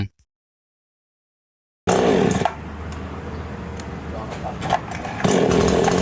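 A new Chinese-made chainsaw engine starts abruptly after near silence and then runs loudly and steadily, with a rough idle that rises to a higher pitch near the end.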